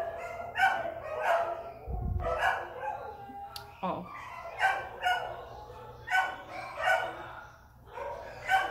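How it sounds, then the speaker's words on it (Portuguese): Several dogs bark and yip over and over in a steady, uneven rhythm, fairly close and loud, with a brief low thump partway through. "esse cachorrada tá difícil hoje, hein?"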